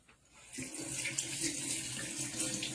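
Food is rinsed under a kitchen tap, the running water starting after a short pause and then splashing steadily and fairly close, with faint background noise.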